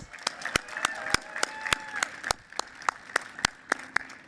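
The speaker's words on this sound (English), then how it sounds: "Let's please give Craig a big round of applause" An audience at a fundraiser soiree gives scattered applause: sharp, distinct claps ring out irregularly over a faint murmur of voices, fairly soft and spread across the room.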